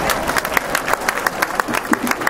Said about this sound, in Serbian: Molim vas jedan veliki aplauz za moje drage kolege.